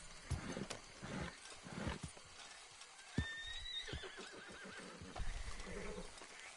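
Frightened horse in a video game neighing and whinnying with clip-clop hooves and a roar-like animal sound, loud and close, repeated whinnies over restless stepping.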